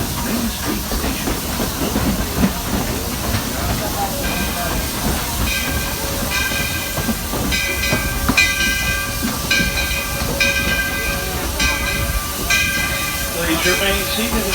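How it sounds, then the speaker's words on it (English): Walt Disney World Railroad train rolling steadily on its rails, a continuous rumble and hiss with faint clickety-clack, while an announcer speaks over the running train. "Please remain seated until the train comes to a complete stop."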